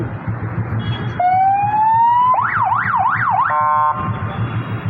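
A loud siren hooter fitted on a motorcycle in Kharar rises in a long sweep, then wails rapidly up and down before cutting off, heard close and alone.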